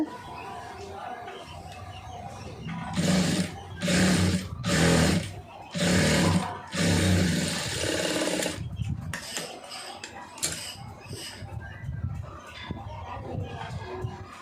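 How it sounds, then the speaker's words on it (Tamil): A sewing machine stitches the neck strip of a star-neck blouse in four loud rapid bursts separated by short pauses, followed by quieter fabric handling and a faint voice. "அந்த பட்டியை வந்து தையல் போட்டுக்கிறோங்க"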